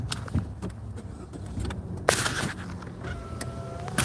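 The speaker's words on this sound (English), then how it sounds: "Bringing my windows up just because it's going to be super loud." Car power windows closing inside a vehicle, a whirring electric motor running through the latter half, preceded by a few clicks and a sharp thump, fairly quiet and with no speech.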